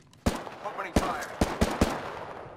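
Gunfire in the Apex Legends video game: a handful of sharp, punchy shots in an irregular rhythm, close and fairly loud, each with a short ringing tail, and no talking over them.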